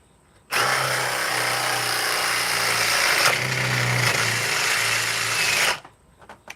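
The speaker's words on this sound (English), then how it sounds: "Let's drill another one here." A power drill running at speed 2 drills a hole, starting abruptly and holding a loud, steady whine with a low hum for about five seconds before stopping, then quiet handling noise.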